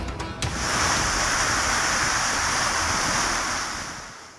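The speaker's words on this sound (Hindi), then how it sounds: "कोसलमान से आने वाले सैलाबी रेलों ने डेरा गाजी खान और तौसा शरीफ के मुज़ाफ़ाती इलाकों को लपेट में ले लिया।" Rushing floodwater from hill torrents near Dera Ghazi Khan and Taunsa Sharif, a loud, continuous roaring wash of water with wind buffeting the microphone, swelling then slowly fading, with no talking.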